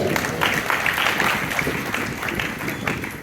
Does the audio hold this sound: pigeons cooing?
no